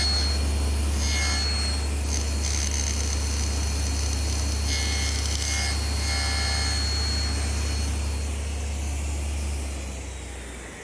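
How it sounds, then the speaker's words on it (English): Table saw cutting a small rabbet in a wooden front rail: a loud, steady machine drone with a continuous whine holds for the whole stretch and eases off slightly near the end. "And I'll make those on the table saw."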